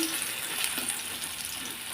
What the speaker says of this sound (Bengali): গ্যাসটাকে কমিয়ে দিয়ে হালকা আছে ভাজাভাজি করছি